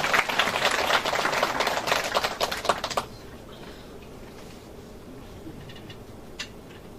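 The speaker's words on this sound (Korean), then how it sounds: "인사할 때 박수로서 한번 맞아주십시오" An audience applauds to welcome a speaker at a lecture, with dense clapping for about three seconds before it drops away to a quiet room.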